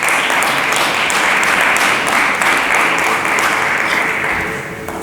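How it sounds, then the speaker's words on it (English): A conference audience at a solar power plenary session gives loud, sustained applause, many hands clapping densely in a large hall, fading slightly near the end. "Can we please give them a round of applause?"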